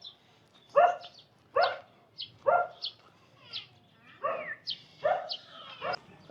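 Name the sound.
caged dogs barking in a Philippine mall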